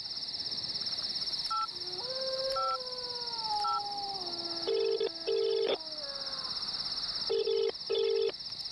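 A mobile phone on a call plays dialing beeps, then repeated ringback tones in paired bursts, with a steady high electronic whine and no voices.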